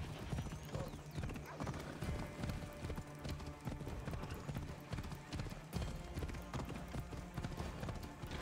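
Horse galloping in the video game Assassin's Creed Odyssey, with steady rhythmic hoofbeats and an occasional whinny, heard faintly under game ambience.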